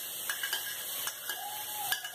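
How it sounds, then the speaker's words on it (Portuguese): Garlic fries in oil in a home kitchen pan, giving a soft, steady sizzle dotted with small crackles and pops, with no voices. "E vou colocar o alho pra fritar."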